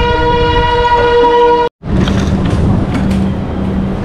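The Pothigai SF Express rolls along on its run, loud and close, with a steady tonal hum, a sudden brief cutout, then rumbling wheel and carriage noise continuing without talk.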